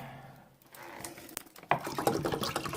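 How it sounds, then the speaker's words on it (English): Purified water is poured into a pitcher, a soft run-in that builds into a louder, bubbling splash and trickle over the last second or so after a quiet start. "fill that up with purified water in this pitcher"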